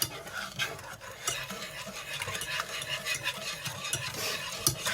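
A whisk scrapes and stirs pumpkin paste in a pan for vegan pumpkin pudding, producing steady rhythmic clinking and swishing, close and moderately loud.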